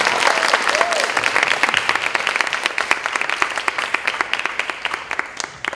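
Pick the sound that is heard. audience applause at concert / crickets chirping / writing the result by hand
audience applause at concert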